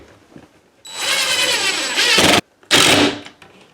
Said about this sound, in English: You only want to drill through the cleat itself, not all the way into the stud